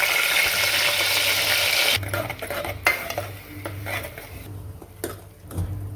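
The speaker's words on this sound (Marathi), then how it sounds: "तेलात घालून घेऊ कांदा टोमॅटोची पेस्ट" Onion and tomato paste frying in hot oil for a mutton curry, with a steady bright sizzle at first, then spoon scraping and stirring clatter against the pan, with no talk.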